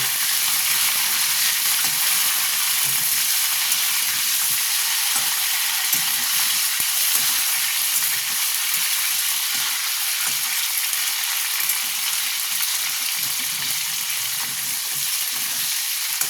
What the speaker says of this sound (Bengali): চিকেনটাকে একটু ভালো মতন ভেজে নেব।